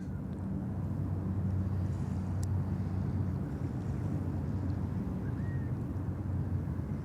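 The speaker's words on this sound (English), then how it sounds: "hopefully you can hear those waves" Ocean waves at a beach near Sydney Airport, a constant low rumbling wash of surf with wind buffeting the microphone, no talk.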